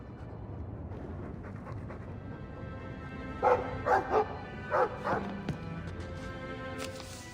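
A dog in the fantasy role-playing video game Dragon Age II barks several times in short bursts at moderate volume over a steady background ambience.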